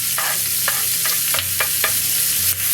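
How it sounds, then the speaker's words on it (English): Sliced medium white or yellow onions sizzle steadily in a pan while caramelizing with salt and pepper, with a spoon or spatula stirring and scraping at irregular intervals, close and fairly loud. "we're going to cook these up, just a little bit of salt and pepper, and caramelize these"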